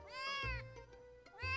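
Small kittens meowing loudly and insistently: two long, high wavering cries at the start and end, with softer, shorter mews between them, close and without any talking.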